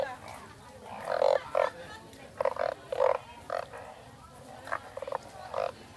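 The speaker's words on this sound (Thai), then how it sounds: "มันจะมีอะไรร้องอึ่งอ่าอึ่งอ่าไปหมดนะครับ" Banded bullfrogs croak in repeated loud, nasal bursts, several close calls in uneven clusters, heard at a Thai market in Bang Saphan where the frogs are sold, with a faint low background murmur.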